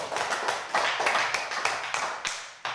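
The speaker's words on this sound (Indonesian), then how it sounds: "tepuk tangan untuk kelompok satu, nomor satu" Classroom applause for a student group fills the clip as a steady, fairly close patter of many hands clapping. Sharp individual claps stand out, and the clapping ends with a final burst.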